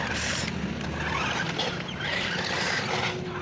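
A Swaraj 855 tractor fitted with oversized tyres drives along outdoors, its engine giving a steady, rough drone close by with wind and road noise, no talking.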